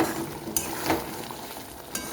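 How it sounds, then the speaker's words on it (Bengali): Katla fish curry with garam masala is stirred in a pan over a low bubbling sizzle, with a couple of sharp spoon scrapes against the metal. "এবারে আমি গরম মশলাটা দিয়ে নেড়ে চেড়ে দেবো"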